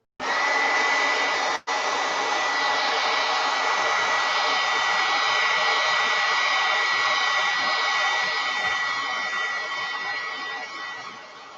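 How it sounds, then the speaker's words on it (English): A heat gun dries craft work, a loud, steady blowing roar that starts abruptly, cuts out for a split second, then runs on evenly before easing slightly at the end. "So I'm going to dry it with my heat gun."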